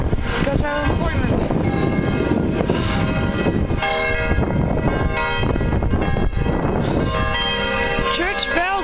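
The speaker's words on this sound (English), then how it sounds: "Church bells are irritating!" Church bells clang repeatedly and loudly, close by, with a rumbling background and a voice faintly underneath.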